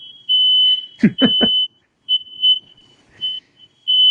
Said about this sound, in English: there go my fire alarms